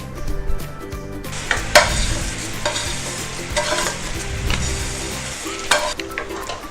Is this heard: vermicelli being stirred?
yes